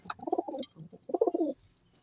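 A Madras pigeon from a mated pair coos nearby in two distinct, throaty bursts of rolling notes separated by a short pause, with no talk around them.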